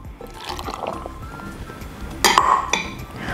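Almond milk is poured for a cantaloupe smoothie, a soft liquid flow into a container mixed with light clinks of glass or utensils at close range.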